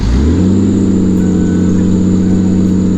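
An old, cheap rust-belt car with its exhaust gone idles loudly and steadily up close, a rough, blatting drone with strong low-pitched throb and no voices.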